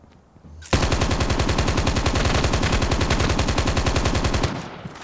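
Sustained automatic gunfire from the Call of Duty Mobile battle royale game, a loud, rapid, continuous burst lasting about four seconds before cutting off abruptly, with no talk over it.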